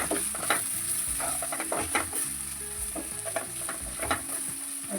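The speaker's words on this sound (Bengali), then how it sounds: "এটাকে ভালোভাবে নাড়াচাড়া করে" Deshi chicken sizzles in a hot pan while a spatula stirs it in quick, repeated scraping strokes, close and fairly loud, with no talk.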